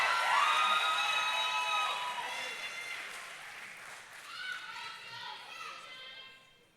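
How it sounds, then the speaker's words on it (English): Audience cheering and calling out for women competitors at an OCB Colonial Open bodybuilding show, a bright crowd roar that swells at the start, then fades to scattered shouts and whoops. "Come on, cheer these ladies all the way on."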